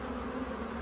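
Captured honeybees buzz steadily inside a hive box, a dense continuous drone close at hand with no voices.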